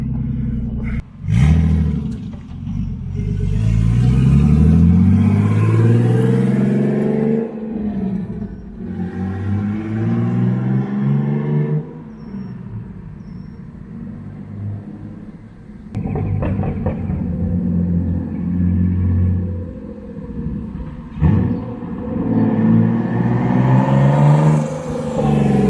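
A turbocharged BMW E36 engine rumbles close by as the car rolls out of a garage, its revs rising and falling in several smooth sweeps over a deep, steady idle.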